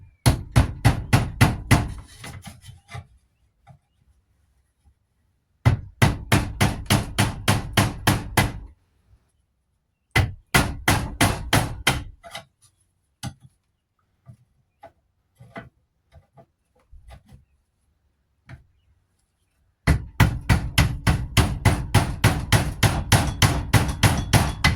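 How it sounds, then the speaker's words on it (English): A hammer beats on a 2006 Dodge Grand Caravan rear hub bearing clamped in a vise, loud sharp metallic blows in rapid rhythmic bursts separated by pauses and scattered lighter taps. "And I'm going to try to beat on this. And I got it clamped in the vise."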